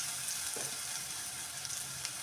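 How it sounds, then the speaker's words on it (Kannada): Onions and ginger garlic paste for a mutton gravy fry in a pan, giving a steady, close, hissing sizzle that runs without a break for the whole moment, with no voices. "ಹಾಕೊಂಡ್ಬಿಟ್ಟು ಇದು ಸ್ವಲ್ಪ ನಾನು ಫ್ರೈ ಮಾಡ್ಕೊಳ್ಳೋಣ"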